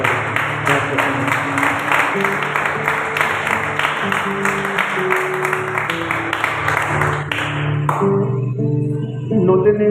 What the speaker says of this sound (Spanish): Y te damos un fuerte aplauso, Padre bendito de la gloria.